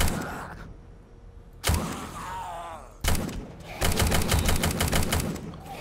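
An AK-style rifle in the zombie survival game Undead Legacy fires two sharp single shots, then a fast, loud burst of automatic fire that rattles on for about two seconds.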